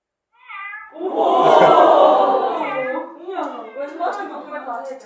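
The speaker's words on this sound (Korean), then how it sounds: "고양이 소리 내줘" A synthetic-sounding cat meow played by a phone's AI voice assistant, a long drawn-out wail followed by a shorter, wavering meow, clear and close with nothing else behind it.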